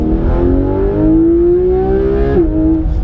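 Porsche 991 GT3 RS flat-six engine revving loud and close, pitch climbing steadily then dropping briefly near the end, no talk.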